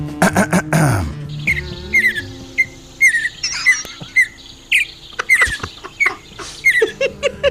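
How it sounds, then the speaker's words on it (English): A series of short, high chirping calls and warbles of a mountain bluebird, repeated in quick bursts with brief pauses, fairly close and clear. "The official state bird is the mountain bluebird."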